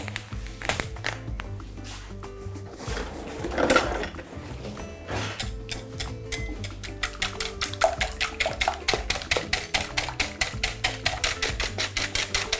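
Eggs are beaten with salt and sugar in a bowl for a quiche filling, producing quick rhythmic clinking strokes that turn faster and more regular in the second half, fairly close and moderately loud.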